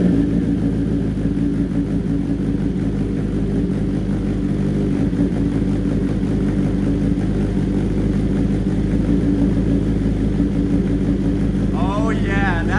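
A 2025 BMW S1000RR sport motorcycle with an aftermarket M4 exhaust idles with a deep, steady rumble throughout, with a brief rev near the end.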